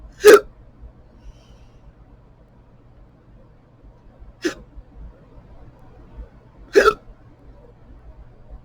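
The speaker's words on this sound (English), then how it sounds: "oh God, the hiccups, no." Three distinct hiccups from a person, well spaced with a long gap after the first, each a short sharp close burst over a quiet background hum.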